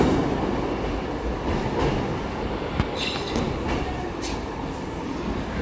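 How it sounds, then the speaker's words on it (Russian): A Moscow metro train of type 81-765 pulls away slowly on an open section of line, its steady rolling rumble joined by faint wheel squeal and a single sharp clack partway through. "Сейчас этот поезд также медленно будет отправляться"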